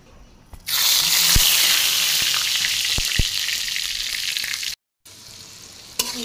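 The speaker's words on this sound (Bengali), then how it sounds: "আলু ভাজা শুরু করছি, আলুটা ভেজে তারপরে আসো রান্না করবো।" Potatoes sizzle steadily as they fry in a blackened kadai, a loud continuous hiss with a few faint stirring clicks. It cuts out abruptly for a moment near the end, then resumes.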